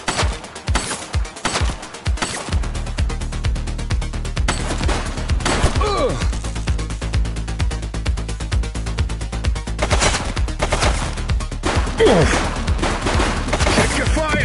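Rapid bursts of automatic gunfire in The Precinct police action game on PS5, loud and close, with a dense rattling volley early on followed by continued shooting and crashes, with brief voices in the mix.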